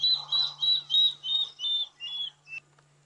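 A water thick-knee calls at night during a sunset safari drive, giving a series of about eight loud, shrill whistled notes that slowly descend and fade toward the end, over a steady low hum.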